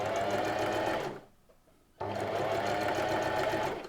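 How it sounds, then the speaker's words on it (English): Close, steady whirr of a sewing machine stitching along fabric with a light pedal, pausing briefly for about a second before running again at the same even speed. "sewing along the fabric."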